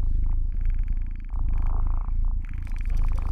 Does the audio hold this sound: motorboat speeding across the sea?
no